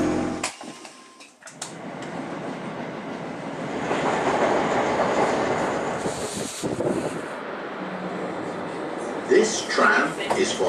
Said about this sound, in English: This tram is for New Addington.